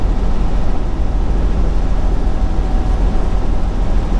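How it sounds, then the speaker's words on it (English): A truck's engine brakes on a wintry road in western Iowa, a loud, steady low rumble of engine and road noise that holds throughout without a break. "Yes, you do hear my engine brakes going"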